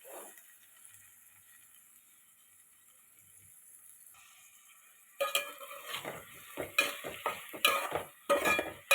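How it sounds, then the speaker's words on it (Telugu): Onions, green chillies and curry leaves fry in a pan for a potato curry. After a quiet start, a spatula scrapes and clatters against the pan in quick, loud, uneven strokes over a light sizzle. "ఉల్లిపాయ పచ్చిమిరపకాయలు వేపుకోవాలి కరివేపాకు వేసాను వేపుకోవాలి"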